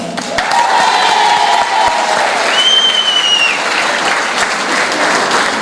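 Loud applause from a crowd at a women's political party congress, dense clapping throughout with voices shouting and cheering over it.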